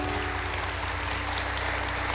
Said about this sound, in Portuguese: Então aplauda, aplauda mais forte ainda.